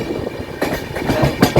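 The Karwar Express runs on rails during a morning journey from Sakleshpura toward Kukke Subramanya, with a loud, close rumble and rhythmic clacking bursts of wheels over rail joints, and no talking.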